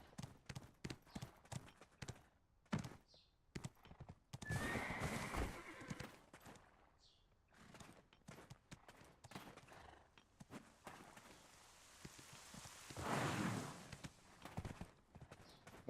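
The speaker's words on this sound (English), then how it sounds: "We got a horse now." Horse in the online role-playing game Black Desert Online, with a clear whinny and repeated clip-clop hoofbeats among other game sound effects, moderately loud with no talking.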